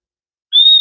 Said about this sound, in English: I wonder if that's a whistle. It is a whistle.